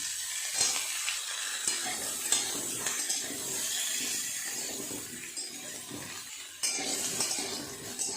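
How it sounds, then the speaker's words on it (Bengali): Cauliflower and potato pieces fry in oil in a pan, a steady sizzle with scraping stirs and the clink of a spatula on metal, close up and with no talk. "আলু ফুলকপি আরেকটু ভালো করে ভেজে নেবে।"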